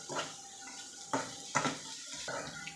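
Turmeric being stirred and fried in a pan for chitranna, a few distinct metallic scrapes and clinks of a spoon against the pan, fairly faint and spaced out.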